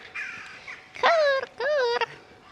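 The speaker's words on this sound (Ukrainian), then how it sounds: "І ворони тут каркають." Two loud, harsh crow caws in a row at Copenhagen Zoo, each drawn out and ringing, standing out clearly over faint background noise.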